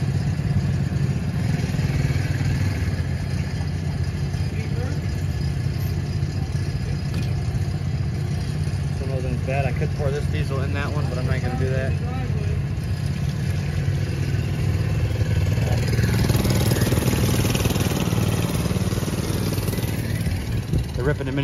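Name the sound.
mini bike engines running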